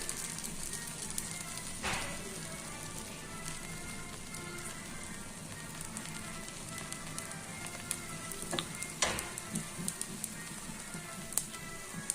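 An egg frying in a pan as it is spread around, giving a continuous soft sizzle and crackle with a few sharper scraping clicks, fairly quiet and steady with no talking.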